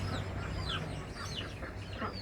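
A rooster recovering from a snoring respiratory illness (CRD) gives a few short, soft clucks, close by but faint. The clucks sound over a low background hum, with no talking.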